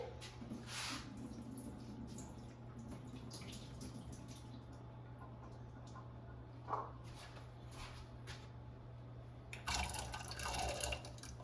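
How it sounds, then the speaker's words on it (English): Liquid draining from a can of chickpeas, soft trickling and dripping over a low steady hum, faint and close, ending in a brief louder splashing pour, with no talk. "I'm going to drain the liquid."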